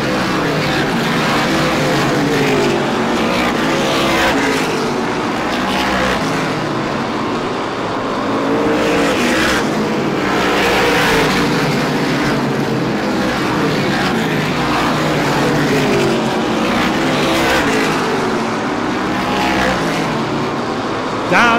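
Stock race cars roar down the straightaway at Star Speedway, a loud, dense wall of engine noise that swells and fades as the pack passes, continuous throughout.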